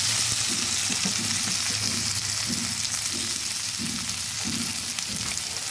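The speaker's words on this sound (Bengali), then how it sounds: "আমি কড়াইতে তেল দিয়ে একটা আলুকে এরকম ডুমো ডুমো করে কেটে সুন্দর করে ধুয়ে ভাজতে বসিয়েছি" Diced potatoes sizzle steadily in hot oil in a wok, a close, continuous crackling fry with soft stirring scrapes throughout and no voices.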